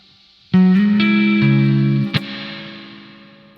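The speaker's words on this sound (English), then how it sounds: "how much reverb is too much?" A distorted electric guitar chord is struck, then a second strum, and the sound washes out in a long, heavy reverb tail that slowly fades.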